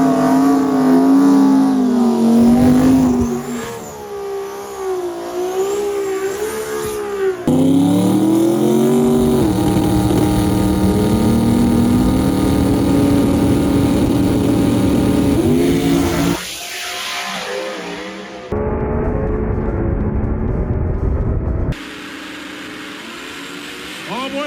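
Drag race cars launching and accelerating down the track at a World Cup Finals event, loud rising engine howls and revving in several bursts with abrupt cuts between them, close and powerful, with crowd and commentary noise mixed in.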